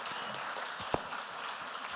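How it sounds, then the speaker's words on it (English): An audience applauds a panel at the close of a discussion event. The clapping is faint and steady, with one sharper clap standing out near the middle. "Ladies and gentlemen, a round of applause for our amazing panel"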